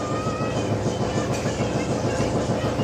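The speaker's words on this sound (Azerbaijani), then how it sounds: "üstümüzdən qatar gedir" A train rumbles past overhead in the city, a loud continuous rolling roar with rhythmic rail clatter filling the whole stretch with no pause.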